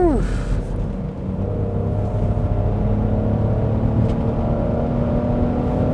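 The 2022 Genesis GV70 SUV engine holds a loud, steady roar as it accelerates hard through corners without shifting up, heard from inside the cabin with a person talking over it.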